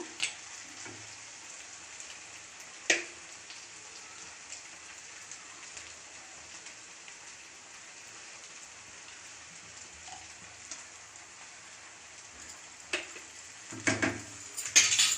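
Egg noodles being tossed and mixed with sauces in a pan, a steady faint sizzle with occasional sharp clinks of a utensil against the pan and a louder clatter of scraping near the end.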